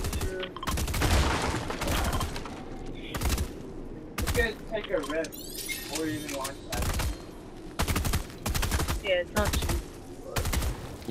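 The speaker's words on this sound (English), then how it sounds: "The bot's still shooting at this dude." Video game gunfire from a bot rattles in repeated loud bursts and single shots, some rapid like a machine gun, while a voice talks between volleys.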